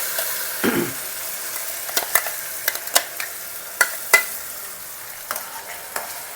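Ground masala paste for a stuffed brinjal curry frying on a low flame, a steady close sizzle broken by sharp scraping spoon strokes at irregular intervals, with no voices.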